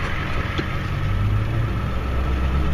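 Exhaust rumble of a snow plow truck heard from inside the cab, a steady, loud low-pitched engine drone that holds evenly without revving.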